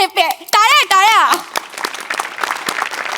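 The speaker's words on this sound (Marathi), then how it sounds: "टाळ्या." Studio audience applause at a Marathi comedy show, starting after a drawn-out, wavering vocal phrase and continuing as a steady patter of claps for the second half.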